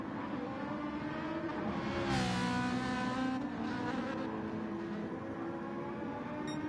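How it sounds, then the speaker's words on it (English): A Ferrari race car passes in a racing sim at Interlagos, its engine a loud, high, harmonic whine that rises as it comes through, with other engines droning steadily underneath. "Yeah, so the Ferrari coming through."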